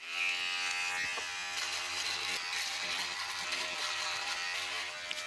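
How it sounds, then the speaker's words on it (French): Steady high-pitched electric buzz of an electric razor head fitted to a cheap AliExpress hair trimmer, shaving continuously and close, with slight changes in pitch as it moves over the skin. "je change la tête et je mets la tête de rasoir électrique"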